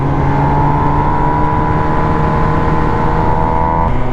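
A 2022 MV Agusta Brutale 1000RS motorcycle engine runs high in its rev range, a loud, steady, close-up howl with sustained tonal whine that holds constant for several seconds without speech.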